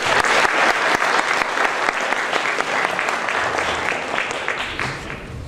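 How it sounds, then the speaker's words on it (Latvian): Audience at a Latvian award ceremony breaks into sustained applause, many hands clapping loudly and evenly, the sharp claps thinning slightly toward the end with no voices over them. "Lūdzu, aplausies!"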